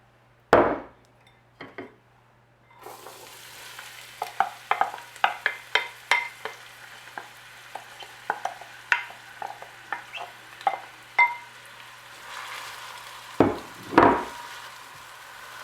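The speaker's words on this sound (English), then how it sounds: "So now we're going to saute the onions" Onions saute in half a cup of olive oil for a Portuguese seafood rice, a low hiss punctuated by a run of sharp scraping clacks from a utensil stirring the pan, with a few louder knocks at the start and end.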